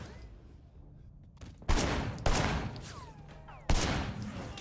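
Gunfire in the Sleeping Dogs video game erupts as sharp, loud bursts of rapid shots, several volleys separated by brief pauses after a quieter opening.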